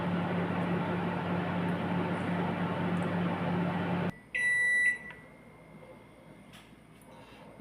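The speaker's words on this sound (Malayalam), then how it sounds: "ഓവന് ഇവിടെ പ്രീഹീറ്റ് ചെയ്ത് റെഡി ആയിട്ടുണ്ട്" A steady whirring oven fan runs, then cuts off abruptly, and the oven gives a short electronic beep tone signalling that preheating is done, followed by near quiet.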